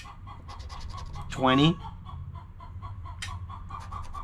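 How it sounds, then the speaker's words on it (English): A backyard chicken gives one loud, rising squawking call midway, against steady outdoor background noise while a person talks nearby. "Every time, guys, my chickens gotta do this when I do my videos."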